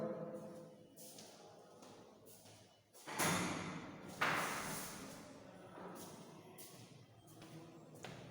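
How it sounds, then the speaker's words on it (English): A classroom door is opened during a power outage, with several clattering thumps and a louder scraping swing near the middle, close by, among soft knocks and room noise. "Let me open the door."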